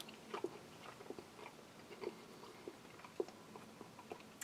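Someone chews a tough, chewy piece of meat from a Spanish army combat ration, making faint, close wet bites and squelches in an irregular rhythm.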